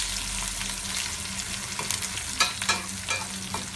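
Curry leaves, dried chilies and shallots fry in hot oil for a dhal, giving a steady close sizzle broken by a few sharper spatters and the scrape of stirring.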